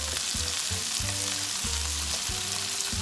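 Soaked glass noodles hit a hot non-stick pan with a steady, bright sizzle while dull, rhythmic stirring knocks repeat underneath, with no voice heard.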